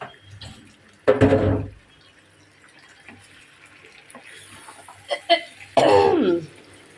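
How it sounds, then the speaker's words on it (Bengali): A woman with a cold coughs in two loud, close bursts separated by quieter kitchen sounds, with short clatters between them. "আমার কেন জানি হঠাৎ করে কাশি লাগছে মানে কাশি হয়েছে"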